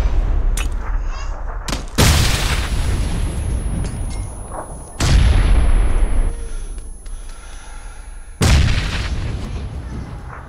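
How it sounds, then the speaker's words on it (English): Loud grenade blasts and gunfire in a multiplayer shooter game: three heavy booming explosions roughly three seconds apart, each followed by a rumbling decay, with scattered shots in between. "Oh, nade on me."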